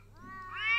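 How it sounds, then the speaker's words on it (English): An angry cat lets out a single drawn-out meow that swells and rises in pitch toward the end, close and loud, with no talking. "Angry cats."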